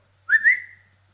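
A person gives a short, clear two-note whistle to call a dog, rising slightly and then fading, alone in a quiet room.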